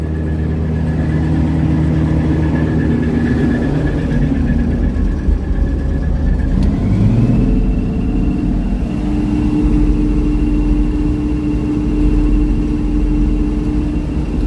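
A 2014 Ford F-150 STX with the 5.0L Coyote V8 runs loud and close in a steady low rumble, its engine note shifting in pitch partway through and then holding at the new level.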